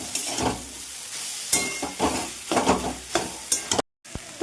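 Banana flower (mocha) stir-fried with a little sugar in a pan, giving close, scraping stirs over a steady sizzle, with short bursts of spatula movement and a brief pause near the end.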